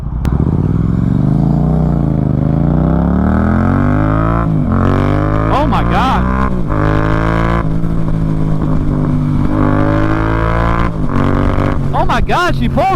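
A new 2024 Yamaha MT-07 motorcycle being ridden home from the dealership roars loud and close, its engine drone climbing through rising revs with brief dips at gear changes throughout.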